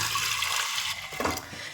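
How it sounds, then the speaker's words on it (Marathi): Water pours steadily in a gushing stream into washed lentils, close by, with a brief splashy surge near the end. "आता याच्यामध्ये पाणी टाकते"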